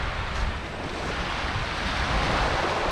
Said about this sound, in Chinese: 我们现在来到了亚德里亚海边